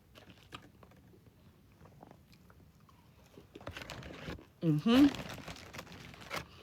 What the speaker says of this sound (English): Now as you're chewing that chicken, get a couple of your fries.